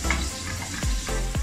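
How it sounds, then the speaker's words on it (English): Breaded fish frying in a pan, loud close sizzling throughout with a few short scraping strokes of a utensil against the pan. "Start making noise again with the pan."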